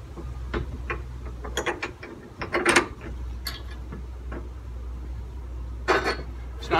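A bolt being fitted on a B2 bike carrier on an NCV3 van gives off close metallic clicks, ratcheting and rattles in irregular bursts over a low background hum.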